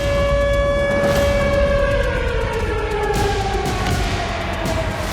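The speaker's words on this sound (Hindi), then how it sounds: "पूरे रूस में सायरन बजे" A loud civil defense siren, part of a nationwide drill across Russia, wails steadily, its tone sagging lower toward the end, with no voices over it.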